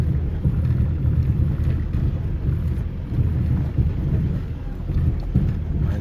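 A Land Rover 300Tdi diesel engine crawling up a steep, rocky track at Yarra Mountain in low-range first gear, a low, steady rumble with a rough, buffeting, wind-like texture throughout.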